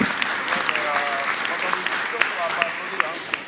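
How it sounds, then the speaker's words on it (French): An audience at a Comité Grand Lille meeting applauds steadily for a few seconds, a dense wash of clapping, while a voice speaks over it. "j'aimerais quand même qu'on applaudisse Jean-Michel pour la présentation qu'il vient"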